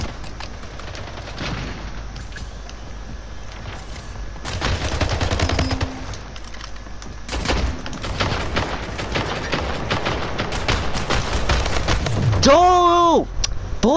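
Gunfire in the Splitgate first-person shooter, a rapid burst of shots and crackling blasts that grows dense toward the end. Game effects and voices overlap it.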